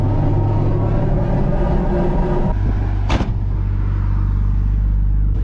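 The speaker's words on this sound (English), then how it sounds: "Oh, that wheel is rubbing so bad in the left rear." A Nissan 240 with a badly rubbing left rear wheel and a bald front tire is driven. Its loud, steady engine rumble runs throughout, broken by a sharp burst of noise around the middle.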